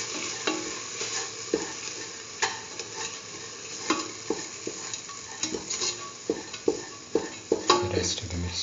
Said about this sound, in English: Mix the lentil.